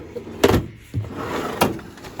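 A general-purpose drawer in a workshop tool storage unit is pulled open, giving two short rolling slides about a second apart with a fainter thud between them, close and clear with no talking.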